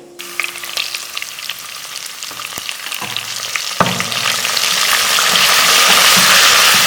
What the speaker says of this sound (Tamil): கடுகு பொரிஞ்சதும் நம்ம பொடிப்பொடியாக கட் பண்ணி வச்சுருக்கிற இஞ்சி பூண்டு சேர்த்துக்கலாம் வரமிளகாய் சேர்த்துக்கலாம்